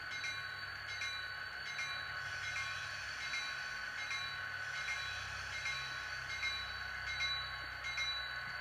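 A steady low rumble of model diesel locomotives idling and moving out of the shop area on a model railroad layout, with a continuous hum and faint high whine, no voices.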